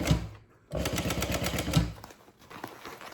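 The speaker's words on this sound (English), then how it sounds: "Let me sew it first and I'll show you." A sewing machine stitches a handbag: a short burst of rapid mechanical stitching, a brief pause, then a longer steady run of close, fast needle strokes that fades to quieter handling.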